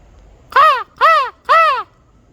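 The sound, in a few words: person imitating crow calls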